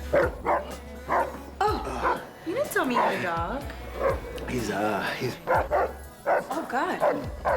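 A dog barks and whimpers indoors, a quick series of close, sharp yips and bow-wow barks broken by a whine, with people talking in between.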